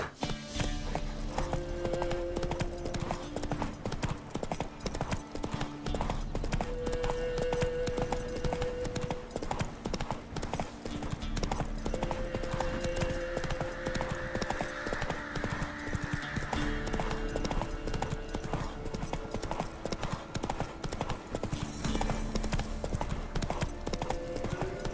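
Roach the horse trots in The Witcher game with a steady, rapid clip-clop of hooves that continues throughout, backed by constant game ambience and a music bed.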